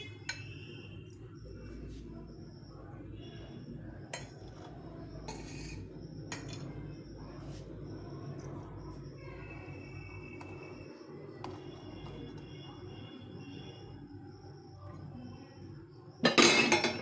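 Metal utensils clink lightly against a frying pan as fried momos are lifted out, over a steady low sizzle of hot oil, with a louder clatter right at the end.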